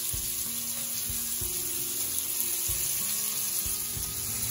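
Snakehead murrel fish frying in a pan, a steady close sizzle with soft periodic knocks and stirring sounds, continuous with no talk.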